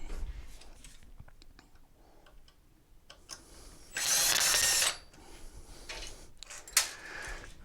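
A 7 mm tool loosens bolts on a Go-Go Traveller Plus mobility scooter: scattered faint metallic clicks and ticks, then a louder sustained ratcheting burst of about a second, followed by a few sharper clicks near the end.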